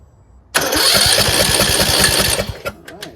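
Troy Bilt Pony lawn tractor engine cranks briefly, then catches and runs loudly and steadily for about two seconds before cutting out, with a couple of faint clicks afterward.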